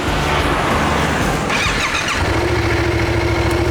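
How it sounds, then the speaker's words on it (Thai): A Yamaha XSR700 motorcycle engine cranks and catches around the midpoint, then settles into a steady, close idle with a low, even rumble. "สตาร์ทฟังเสียงกันนะครับ"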